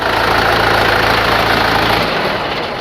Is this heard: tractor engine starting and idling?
yes